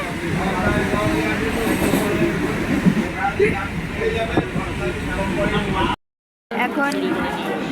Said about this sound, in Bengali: আমরা এখন রানাঘাট রানাঘাট জাংশন তো এটা যাই হোক রানাঘাট স্টেশনে আছি